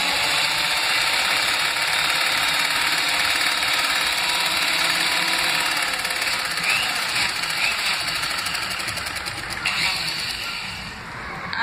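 Sewing machine running continuously while stitching a tight seam on a baby nappy, a steady near mechanical whir with a fast rhythmic needle patter that slows toward the end.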